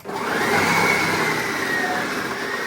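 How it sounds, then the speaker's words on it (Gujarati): A new mixer grinder runs at full speed during a demo, its loud, steady motor whine holding close and even from start to finish. "અહીંયા જો ડેમો લેવાય છે નવા મશીન, ફટાફટ થાય છે."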